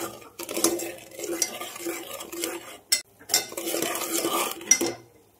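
Fenugreek mixture roasting in a pan on low gas is stirred with a utensil, giving steady scraping and clinking against the metal pan in uneven strokes, with a couple of sharper knocks and a faint low hum beneath.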